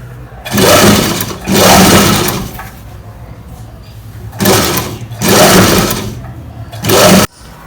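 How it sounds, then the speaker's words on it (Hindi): A sewing machine runs close and loud in several bursts while double-stitching a sleeve onto the top of a gown, its rapid whirring starting and stopping with quiet gaps between runs. "इसको यहाँ से रखना है सेंटर से शोल्डर पे और सिंपली इसमें डबल सिलाई लगा के इसको अटैच कर देना है"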